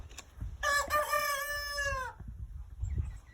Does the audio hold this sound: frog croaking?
no